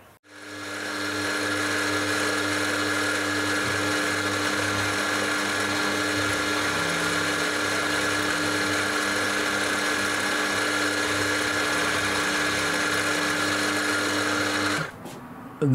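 A milling machine cuts a four-facet drill grinding jig held in a vise, making a steady, loud, tonal whine and hum that holds for about fifteen seconds before stopping abruptly.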